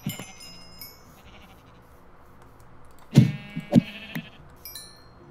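Sheep in Minecraft give two short, loud bleats close together a little past the midpoint, following quieter scattered game sounds and near-silence, with no talk.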